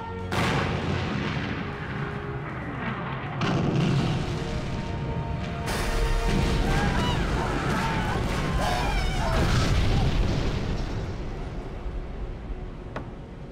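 Naval guns fire on the warship Matsushima in a war-film battle, a continuous barrage of heavy booming blasts and crashing impacts, loud and dense throughout, with a sharp strike near the end.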